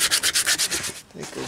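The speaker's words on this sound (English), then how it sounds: "and some sandpaper." Sandpaper rubs back and forth across a piece of stone in quick, even strokes, close and fairly loud, about nine rasping passes followed by a short pause and another scrape.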